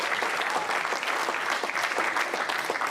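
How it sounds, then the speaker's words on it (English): An audience at a high school sports signing event applauds student athletes, steady close clapping from many hands at an even, lively level throughout. "We need to give them a round of applause."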